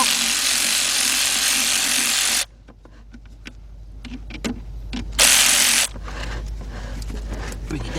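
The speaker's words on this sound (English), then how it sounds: "I got a deep 10mm socket 3/8 drive with a 6-inch 3/8 drive extension and the famous Big Bill" A 3/8-drive ratchet with a deep 10mm socket and 6-inch extension working bolts on a 2006 Mercedes-Benz CLS500 auxiliary battery: a sustained loud buzzing run, a pause with scattered clicks, then another short burst and steady noise.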